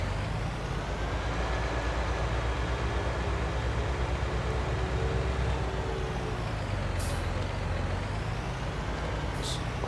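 Farm vehicle engine left running in a farming video game, a continuous low rumbling drone with a steady hum and two brief hissy bursts near the end.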